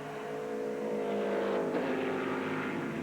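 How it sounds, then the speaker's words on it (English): American GT race cars with big V8 engines roar past at Mid-Ohio during a 2000 Grand Am race, a loud full-throated howl building as a car closes in and sweeping by around the midpoint, engine note held near. "Great sound from those American GT cars, mostly full-throated,"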